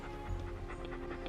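A dog pants quietly in short, rapid breaths, close by and alone, with no other sounds over it.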